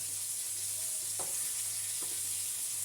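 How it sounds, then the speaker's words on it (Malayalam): Sardines frying in a pan give a steady, dense sizzle throughout, with a couple of faint knocks from stirring or turning, and nobody talking. "ഇന്ന് മീനാണ് പൊരിക്കുന്നു"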